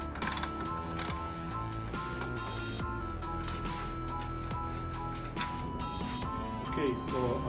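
Ratchet with a 10 mm socket unscrewing transmission line bolts on a 2013 Dodge Grand Caravan, giving repeated close ratcheting clicks that run throughout while a person talks.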